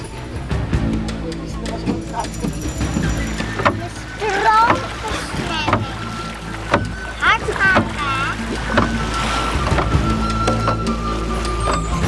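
A boat travelling across water in Madagascar, heading toward a lemur forest, with a steady low engine rumble throughout and people talking over it.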